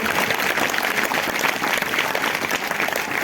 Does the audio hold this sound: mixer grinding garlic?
no